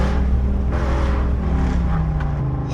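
A straight-piped Dodge Durango R/T drones loudly from inside the cabin while driving, a steady deep exhaust rumble whose pitch shifts slightly as the revs change.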